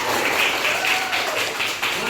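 A group claps for a presenter at the close of a school learning session, a brief burst of dense, fairly loud applause with a voice speaking over it.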